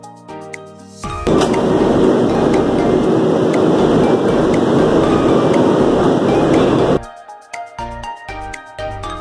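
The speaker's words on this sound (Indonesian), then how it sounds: "Nah, ini dia keretanya. Bangun karta priority." Bangunkarta Priority luxury passenger train at a station platform, a loud steady rumble and hiss rising after a second and holding for about six seconds, then dropping away to scattered clanks and tinkling sounds.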